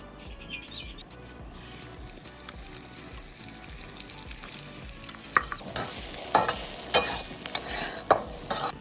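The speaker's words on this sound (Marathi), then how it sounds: "कारलं लगेच परतून घेते." Bitter gourd tossed into hot oil for stir-frying, heard as a quiet low background at first, then louder sizzling with sharp stirring scrapes and clanks in the last few seconds.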